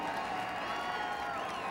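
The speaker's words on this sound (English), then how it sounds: "as the crowd reacts" Crowd at Bristol racetrack roaring and applauding steadily after a lead battle ends in a spin-out during the 2012 UNOH Perfect Storm 150, a dense continuous wash of cheering with some talk mixed in.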